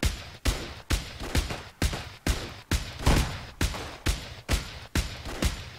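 About a dozen loud gunshots ring out in Bounty Train, each a sharp crack with a short decaying tail, fired at a steady pace of roughly two per second with no talking over them.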